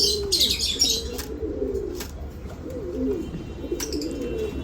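Red Lahori fancy pigeons coo in soft, repeated low rolling calls, with a few sharp chirps and brief wing flutters, close by and without talk.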